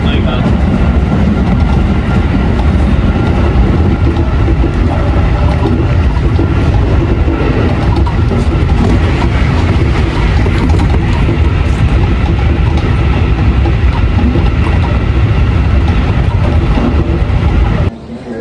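Continuous rumble and rattle from inside a moving train carriage travelling to Nagoya Station, Japan, loud and steady, with talk mixed in under the noise.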